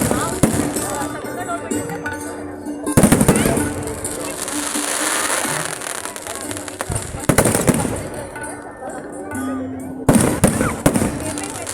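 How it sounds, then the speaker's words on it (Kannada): Green firecrackers burst in a colourful display beside the stage at the Karawali Festival 2025 closing ceremony, loud crackling pops and booms arriving in clusters over a steady crowd murmur, with voices talking throughout. "ವರ್ಣಾಲಂಕೃತವಾಗಿರ್ತಕ್ಕಂಥ ಹಸಿರು ಪಟಾಕಿಯ ಅಬ್ಬರವನ್ನು ಕಣ್ತುಂಬಿಕೊಳ್ತಾ ಇದೆ"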